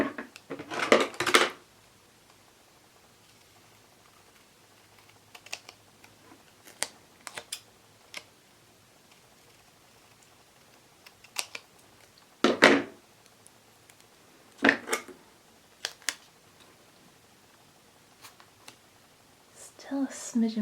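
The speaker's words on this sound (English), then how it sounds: "so I might just trim that one down." Scissors snipping a planner stamp down to size in short, crisp bursts separated by quiet pauses, close up with faint handling noises between cuts.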